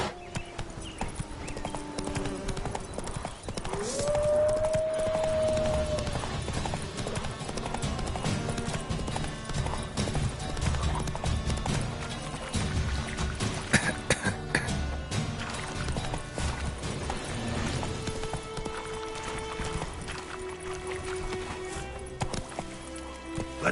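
Roach, the horse from The Witcher 3, gallops with rapid, steady clip-clopping hooves under game music, accompanied by a faint whinny and quiet background game sounds throughout.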